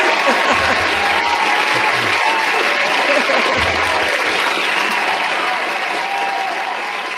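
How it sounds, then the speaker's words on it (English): Canned applause sound effect triggered from a button on a live talk show, a dense, steady wash of many clapping hands with crowd noise, loud and continuous before slowly easing off. "Yeah, I got the applause button."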